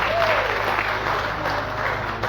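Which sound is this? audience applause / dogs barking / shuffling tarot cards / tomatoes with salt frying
audience applause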